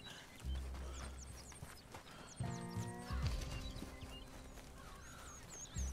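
A horse in the video game Red Dead Redemption 2 clops its hooves in heavy thuds, then gives a clear, drawn-out whinny midway. Faint birdsong chirps in the background throughout.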